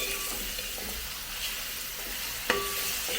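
Curry masala for chicken curry being stirred with salt in a hot pan, a steady soft sizzle and scraping with one brief sharp knock near the end.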